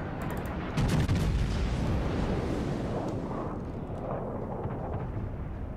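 Naval guns firing in the World of Warships video game, with dense booming blasts and rumbling explosions that fill the whole stretch, loudest in the first couple of seconds and then sustained at a steady roar.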